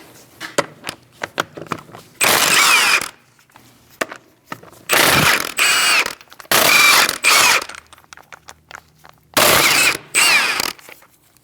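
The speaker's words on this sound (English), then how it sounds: "Using a 17mm socket, we're going to remove our wheel." A ratchet with a 17mm socket loosens the wheel on a 2000-2006 Mini Cooper before a front brake job, sounding as several loud, close bursts of rapid clicking separated by quieter taps and pauses.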